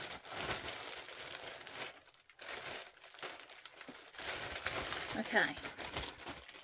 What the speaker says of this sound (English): There's going to be more crinkling.